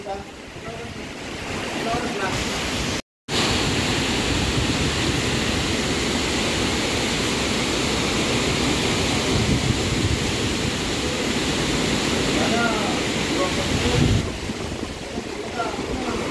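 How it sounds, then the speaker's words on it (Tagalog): Strong, steady typhoon wind (Typhoon Uwan) roars and buffets the microphone continuously, a dense rushing, swirling noise with gusty surges and a brief dropout near the start. "Umiikot po yung hangin."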